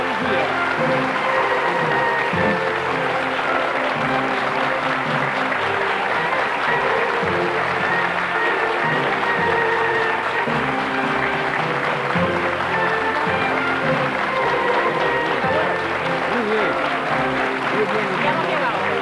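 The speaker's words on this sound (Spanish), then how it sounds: "¿Y qué os parece si ya extendemos este aplauso más fuerte aún y se lo damos a los abuelos?" Studio audience on a Spanish TV show applauds grandparents from La Loma de Albox, Andalucía, a loud, dense, continuous clapping that stays level throughout, with voices and crowd noise mixed in underneath.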